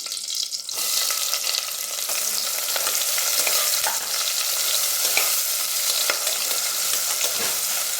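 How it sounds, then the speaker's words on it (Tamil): Onions sizzle steadily in hot oil for a prawn biryani, with whole spices like cinnamon, bay leaf, star anise, cardamom and cloves already in the pan. A spoon scrapes and stirs close up throughout, with no talking. "வெங்காயம் நல்லா வதங்கி கோல்டன் ப்ரௌன் வரணும்"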